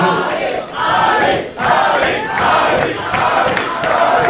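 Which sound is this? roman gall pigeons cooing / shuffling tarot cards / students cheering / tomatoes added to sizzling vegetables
students cheering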